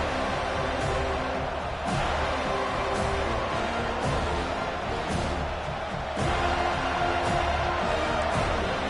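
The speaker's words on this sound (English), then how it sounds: "This crowd, full throat, spreading the eardrums and letting them know it's going to be a long day." Stadium crowd in the College Football 25 video game, Notre Dame matchup, a steady dense roar filling the whole clip with occasional sharper thumps and swells, loud and continuous with no clear voice on top.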